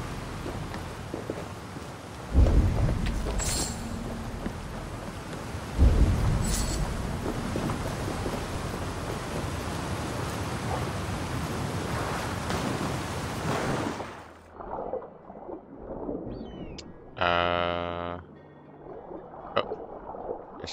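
A waterfall in the video game Assassin's Creed Valhalla roars as a dense, steady rush of falling water for most of the stretch, then cuts off abruptly, leaving quieter game sounds with some tonal effects.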